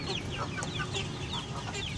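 A black hen clucks repeatedly at close range around a nesting spot where eggs have been broken, with short rhythmic calls over a constant farmyard background.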